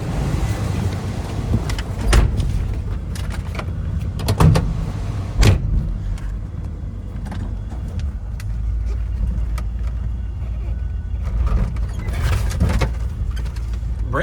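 A 1969 Chevrolet C10 pickup's 350 engine with automatic transmission rumbles steadily from start to finish while driving, with a few clunks and rattles from the cab breaking through now and then.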